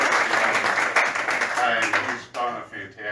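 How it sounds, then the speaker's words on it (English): An audience claps together in a fairly loud, dense burst that thins out as voices and speech take over toward the end. "And you really need to give Ron applause."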